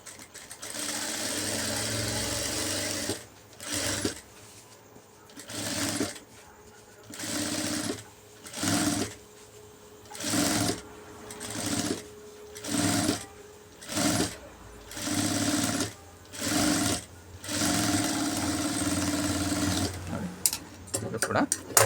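Sewing machine putting a kinnari stitch on an embroidered blouse, running in repeated short bursts of steady whirring separated by brief pauses, close and alone.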